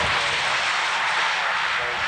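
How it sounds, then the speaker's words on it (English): C-130 transport plane coming in to land at Fairford, a steady loud broadband engine roar holding evenly throughout with no voices. "easing the nose of the C-130 up"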